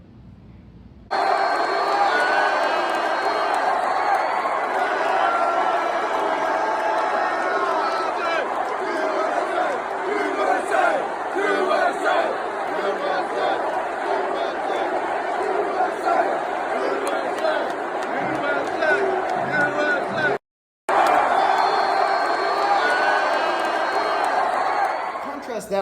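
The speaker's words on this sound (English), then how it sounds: "You can hear the USA chants, just the cheering from the crowd." A large stadium crowd at an Alabama–Georgia college football game roars and cheers in a sustained, dense wash of voices, with chanting woven through, broken only by a brief cut near the end.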